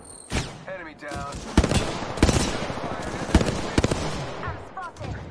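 Gunfire in the shooter Apex Legends: repeated sharp bursts of shots crackling at irregular intervals amid a busy battle soundscape, with short radio-style voice callouts heard between the volleys.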